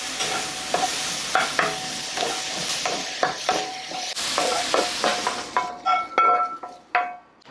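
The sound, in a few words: vegetables being stir-fried for japchae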